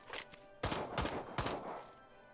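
Several rapid bursts of gunfire from a Civilization VI battle, fairly faint, with short gaps between the volleys.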